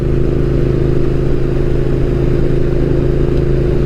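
A Triumph Thruxton R motorcycle being ridden, its engine a loud, steady low drone with constant rumble and wind, no talking.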